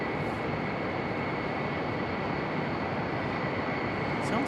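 A steady, continuous roar of jet engines running at a distance at Raleigh-Durham International Airport, broad and unchanging throughout with no voices.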